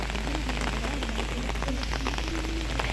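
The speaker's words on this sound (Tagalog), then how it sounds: "Ayan guys, nakapayang tayo kasi umuulan." Steady rain patters on a surface at a beach in Pangasinan, a dense continuous hiss of drops with a faint tone drifting underneath.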